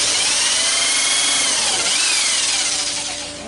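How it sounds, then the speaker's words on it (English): A power drill bores into a wooden park bench during a repair, a loud continuous high whine with shifting pitch for about three seconds before tapering off as the bit slows. "I drilled that one too deep too."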